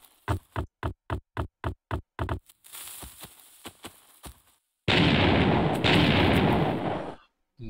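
TNT blasts in the video game Crafter: a fast run of about a dozen evenly spaced booms, a few scattered bangs after a pause, then a long, loud roaring explosion that cuts off abruptly.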